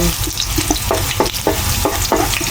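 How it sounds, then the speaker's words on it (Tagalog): Ginger sautéing in hot cooking oil for pork binagoongan, a loud continuous close sizzle broken by repeated short scraping stir strokes, with no voices. "Nagigisa na tayo ng luya."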